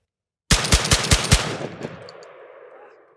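Rapid string of five loud, close shots from an Orthos Raider S4 Turkish semi-automatic shotgun, evenly spaced, followed by a long rolling echo that fades out.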